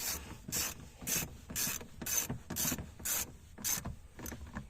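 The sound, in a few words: ratchet with T20 bit tightening door speaker bolts, Ford Focus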